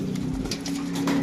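A pigeon coos from a rooftop, a short low, soft cooing call close by, with faint outdoor background and no speech.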